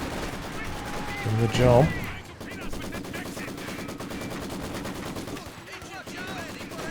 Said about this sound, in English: True support gun shell there landing, and a bit of follow up from the rifles.